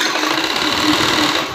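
Sewing machine stitching the waist belt of a blouse slowly, a steady close whirring hum running throughout with no talk.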